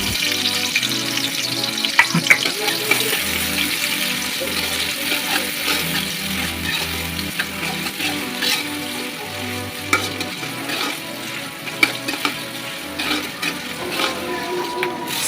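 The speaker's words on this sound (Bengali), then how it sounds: "পেঁয়াজ কিছু দিয়ে দিলাম একটু লাল লাল করে ভাজে নিতে হবে" Onions with a bay leaf frying in oil for chicken biryani, a continuous crackling sizzle with utensil scrapes and stirring, close and fairly loud, with a low rhythmic hum running underneath and no talking.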